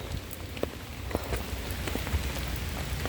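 Heavy rain falls outdoors in a steady, dense hiss, with scattered louder drops tapping nearby surfaces; fairly faint and with no voices.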